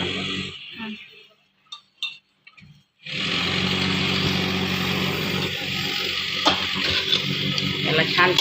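Fresh-cut coriander greens (sambar) stirred into hot masala frying in a pan for Vidarbha-style sambar vadi, a short quiet stretch with a few clatters giving way to a steady loud sizzle and scraping close by.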